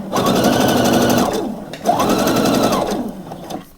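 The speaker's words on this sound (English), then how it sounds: "I think I'm going to top stitch it," A sewing machine top stitches a blouse seam in two loud, close bursts of rapid whirring, separated by a brief pause.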